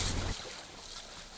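A boat drives across water in BGMI/PUBG Mobile, a faint, continuous engine drone with splashing wash that is a little louder at first, then steady.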